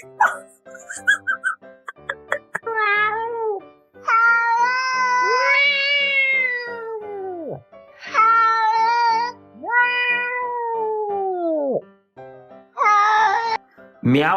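A cat meows loudly and close up, first with a few short chirps and then with several long, drawn-out meows that rise and fall, separated by brief pauses.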